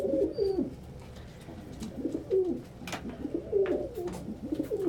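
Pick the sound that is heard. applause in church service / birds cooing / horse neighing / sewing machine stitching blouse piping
birds cooing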